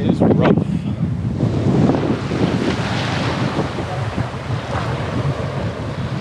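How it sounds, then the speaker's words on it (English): Gusting wind buffets the microphone with loud rumbles while rough ocean surf roars steadily in the background at Sombrero Beach in Marathon, Florida Keys. "Another windy, windy day. The ocean is rough."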